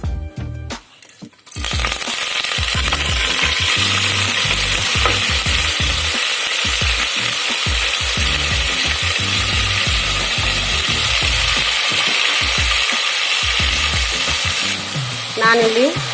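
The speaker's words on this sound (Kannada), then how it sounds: "ಜೀರಿಗೆ ಸಾಸಿವೆ ಸಿಡಿತಾ ಇದೆ" Cumin and mustard seeds splutter in hot oil in a cooker while making tomato rice bath, a loud continuous close-up sizzle broken by rhythmic scraping stirs, with a quieter clatter before the frying begins.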